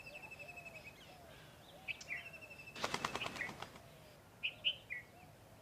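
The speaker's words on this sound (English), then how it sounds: "These are spotted doves." A short burst of spotted doves' fluttering wing flaps in the middle, surrounded by scattered bird chirps and calls against a quiet outdoor background at Point Calimere, India.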